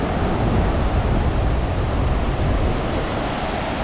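Loud, continuous rush of ocean surf on the beach at Itanhaém on a windy, sunny day, a dense wash of breaking waves mixed with wind buffeting the microphone, with no speech.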